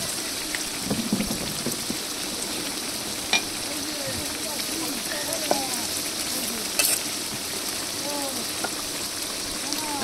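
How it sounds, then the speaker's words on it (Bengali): Ground spices with garlic and cumin paste frying in a pan while being stirred: a continuous, rain-like sizzle with scattered scraping and stirring clicks, moderately loud and close. "এবার ভালো করে মশলাগুলো কষিয়ে নেব"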